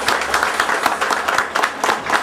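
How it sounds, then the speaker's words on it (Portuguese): An audience applauds steadily to welcome a speaker at a Spiritist movement gathering, a dense wash of many hands clapping together at a fairly loud, even level. "démosle la bienvenida con un aplauso a nuestra querida Simone"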